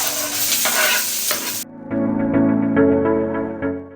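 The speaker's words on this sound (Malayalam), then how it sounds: "സബോളയൊക്കെ ഇതാ ചെറുതായിട്ട് വഴന്നിട്ടുണ്ട്" Onions sizzle and are stirred in a pan while a thoran is being cooked. The frying is loud and close for about a second and a half, then gives way to clear ringing tones.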